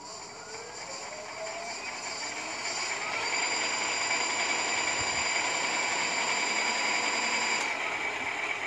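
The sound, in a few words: electric bicycle motor running under throttle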